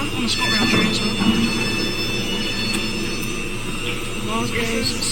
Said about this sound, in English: First trip ever on a ScotRail train as well.